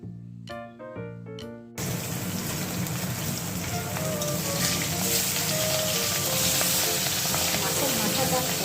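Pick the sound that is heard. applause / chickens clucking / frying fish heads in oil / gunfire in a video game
frying fish heads in oil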